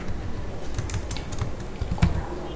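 Keys clatter on a computer keyboard in a run of irregular, close clicks over a low background hum, with one firmer keystroke near the end.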